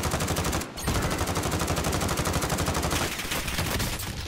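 Rapid automatic gunfire in the Warzone video game, a dense, loud stream of shots with a brief break near the start before firing resumes steadily to the end.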